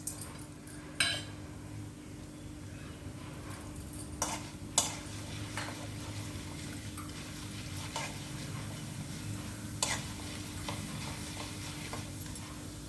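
Steady frying sizzle of urad and chana dal in hot oil in a pan, with a few sharp clinks and stirring scrapes, close and continuous without any talking.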